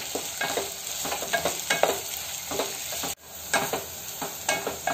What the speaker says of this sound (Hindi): प्याज को वॉश नहीं करना है और ऐसा खोल के डालना है आपको।